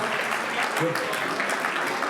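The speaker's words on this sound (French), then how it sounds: "Sous vos applaudissements, bien sûr." Applause from a gala audience for a wax-fabric fashion segment, a steady wash of many hands clapping with a faint voice briefly showing through.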